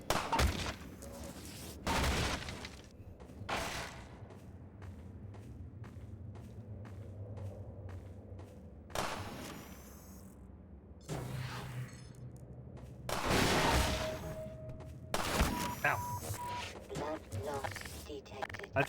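Enemy gunfire in the video game Half-Life 2, sharp bursts of shots cracking out at intervals over a low rumbling backdrop, some loud and close, others quieter, with brief speech mixed in.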